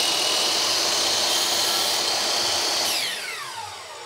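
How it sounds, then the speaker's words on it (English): A miter saw whines loudly at high speed through a cut in wood, then spins down as the motor winds off near the end. "you're gonna just take your miter saw and..."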